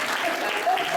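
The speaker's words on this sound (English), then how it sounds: "So yes, you can clap." Audience at a Black History Month community event applauding, a brief, dense burst of steady clapping with a voice faintly present.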